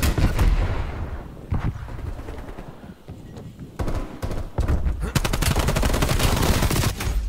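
Automatic fire from an AK-74u in a shooter video game, loud rapid bursts and scattered single shots with thuds and impacts, intensifying into a long dense burst toward the end.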